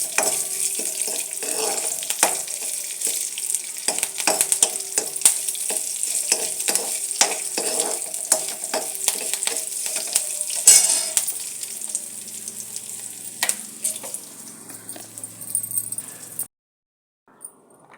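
Green chillies and curry leaves sizzle in hot tempering oil, a dense crackle studded with sharp spitting pops that gradually thins out before stopping abruptly near the end.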